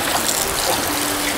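Water runs and splashes steadily while two cups of rice are washed at home, a continuous close, fairly loud gushing and trickling with no talk over it.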